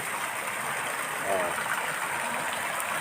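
Water flowing steadily through a ravine at night on the UP Diliman campus, a continuous broadband rush with faint, indistinct voices and footsteps nearby.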